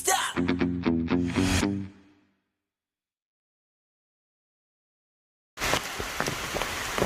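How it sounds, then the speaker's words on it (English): Rain during a southbound Appalachian Trail thru-hike: after a brief voice and a silent gap, a steady, close, broadband hiss of falling rain rises abruptly and holds to the end. "Well, the rain caught me."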